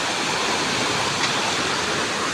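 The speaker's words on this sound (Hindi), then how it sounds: "इसके नीचे नदी का कहर आप देख सकते हैं कितना भयंकर है।" The Beas river in Himachal, flooded after a cloudburst, roars close by as a loud, dense, unbroken rush of churning water with no voices.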